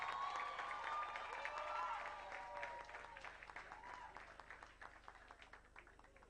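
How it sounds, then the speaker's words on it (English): An audience at a climate justice summer school closing ceremony in Nairobi applauds steadily, loud at first and then thinning into scattered clapping as it fades. "let's do that special applause."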